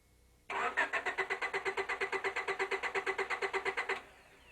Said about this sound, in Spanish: Le damos al motor de arranque y veamos si enciende